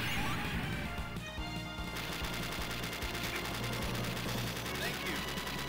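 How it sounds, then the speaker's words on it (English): A heavy machine gun in the 1996 arcade game Metal Slug, with rapid dense fire mixed with crashes, explosions and game music, loud and continuous throughout. "Heavy machine gun in your faces!"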